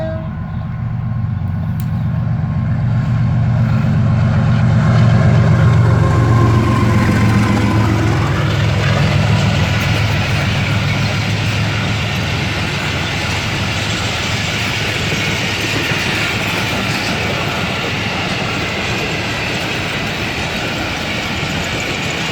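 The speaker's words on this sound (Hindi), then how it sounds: "ये ट्रेन भी यहाँ से काफी अच्छी स्पीड में गुजरी" Karachi Express hauled by a GU40 locomotive rushes past at speed, a loud, sustained roar of engine and wheels that swells as the train nears, then settles into a steady rolling rumble with clattering rail noise throughout.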